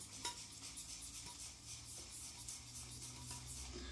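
Wet synthetic shaving brush swirling Cade shaving soap, a steady close, soft brushy swishing and faint squelch continuing without pause.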